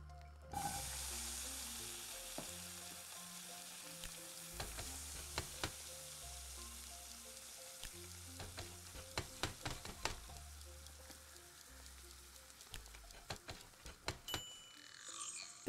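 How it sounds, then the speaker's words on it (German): Food frying in a pan in the video game Dordogne, a steady soft sizzle running through with light clinks and taps over a low game music bed, no talk. "Ab in die Pfanne."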